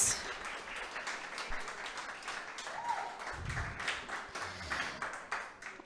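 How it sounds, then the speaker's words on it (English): A university graduate research showcase audience gives a final round of applause for presenters and judges, sounding as faint, fairly distant clapping that stays sparse and soft throughout. "let's give a final round of applause for all of our presenters tonight and to our judges."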